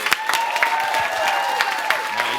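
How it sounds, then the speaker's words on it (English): Students at a secondary-school pitch session get a short burst of applause, scattered claps over a brief murmur of voices. "I think you all deserve a big clap"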